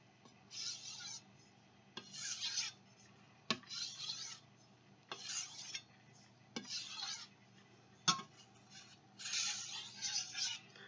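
Freehand knife sharpening on a King 1000/6000 soaking whetstone: a series of about seven rhythmic gritty scraping strokes, each roughly half a second to a second long, separated by short pauses and sharp clicks, close and fairly quiet.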